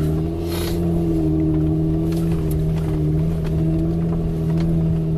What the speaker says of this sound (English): So we're going up the Jeep trail in the slush, and this thing has wide, bald tires.